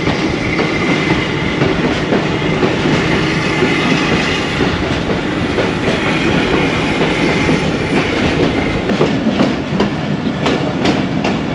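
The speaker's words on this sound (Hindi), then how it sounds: "ZCU-20 एक दफ़ा फिर स्पीड पकड़ते हुए" A ZCU-20 locomotive hauls the Ravi Express on a classic branch line near Shorkot, picking up speed, with continuous loud rumble and rhythmic clickety-clack of the wheels from on board.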